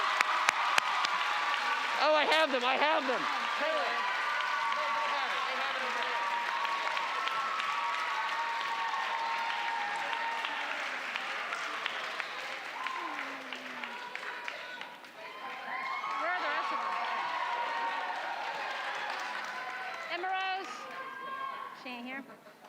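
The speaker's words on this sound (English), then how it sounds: "Now you can clap!" Sustained audience applause at a school academy awards ceremony, a dense continuous wash of clapping with occasional voices and cheers through it, swelling again near the end.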